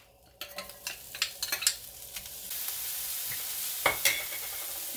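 Chopped shallot hits a hot pan with seafood drippings and is stirred with a utensil, giving a few close scraping clatters and then a steady, loud sizzle that carries on to the end.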